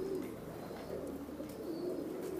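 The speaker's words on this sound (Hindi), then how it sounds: "और बड़ा ही परेल कम्पैक्ट कबूतर है।" A compact male Teddy pigeon coos softly and steadily in a low, rolling, repeated rhythm, close but quiet against a faint background hum.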